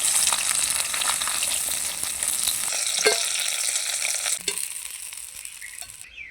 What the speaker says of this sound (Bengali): মাছের মাথাগুলো ভাজা হয়ে গেছে এখন তুলে নেবো